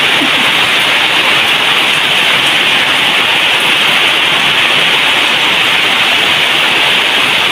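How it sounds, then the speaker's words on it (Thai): Steady, dense rain falling in Saraburi, Thailand, a continuous hiss with no breaks, fairly loud and close throughout. "ฝนตกดีค่ะ"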